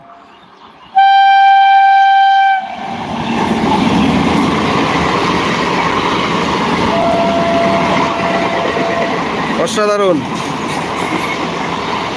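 A loud horn blares, then a Ranaghat EMU local electric train rumbles into the station with a steady clatter and a screech of brakes near the end; a voice briefly exclaims.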